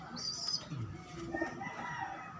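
Pigeons, including a blue hen, calling in a loft with soft cooing and clucking bird sounds, moderately close, mixed with light background noise and no talking.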